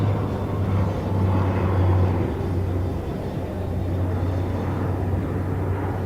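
A large military aircraft with a wingspan over 28 meters flies a wingover at the NATO Days and Czech Air Force Days air show, its engines a steady, broad, distant drone with a low hum that swells slightly and then holds.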